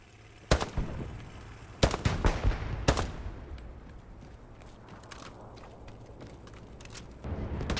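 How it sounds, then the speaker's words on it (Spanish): Gunfire in the World War II shooter game Hell Let Loose: several sharp, loud shots in a short cluster near the start, then quieter scattered reports and distant rumble, with another burst at the end. "Me está disparando y yo le disparo a él."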